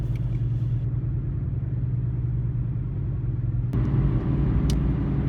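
Jeep Wrangler TJ cruising on country roads in central western Maryland, a steady low engine and tire rumble from inside the cab, with a slight change in tone partway through.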